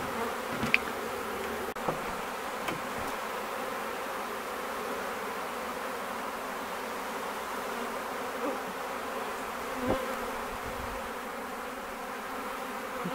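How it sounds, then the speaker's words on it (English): A honey bee swarm being collected in a park in London buzzes as a steady, even drone, close by and moderately loud, with a few faint knocks and handling noises but no talking. "Look at Bruce's back at the bees. I got bees on my back."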